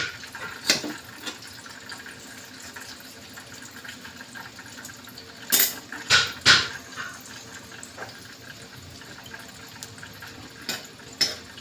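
Tomatoes are washed in water, a soft running and splashing trickle with several louder sloshes and clatters in the middle, close by and without talk.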